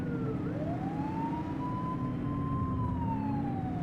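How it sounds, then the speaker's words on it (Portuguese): A police car siren from the police simulator game The Precinct rises and holds in a long continuous wail over a steady engine drone, loud and close, with no talk. "Você aperta o shift e ele liga a sirene."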